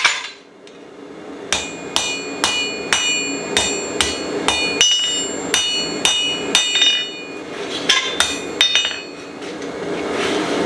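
Blacksmith's hammer striking hot metal over a fuller on an anvil, a steady series of about a dozen ringing, close blows with bright metallic overtones, a brief pause midway and a few more strikes near the end.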